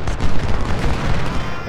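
Dense, rumbling cannon fire and booming blasts roll continuously, loud and close, like heavy weapons firing in rapid succession, in the video game Ultimate General: Civil War.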